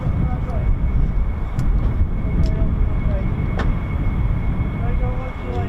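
A US Air Force fighter jet arriving at RAF Lakenheath, home of the 48th Fighter Wing, gives a loud, steady broadband roar that holds throughout with only slight swells, with a few distant voices underneath.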